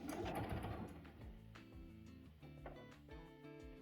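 A sewing machine stitches fabric pieces along a curved seam for an improv quilt sampler, running in steady rhythmic bursts with a mechanical whir and clatter, close and alone with no talk.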